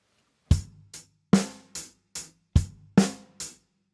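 A sparse pop/rock drum groove: deep bass drum hits alternating with crisp snare-like strikes and ticking eighth-note hi-hats in a steady mid-tempo pattern, with no voices.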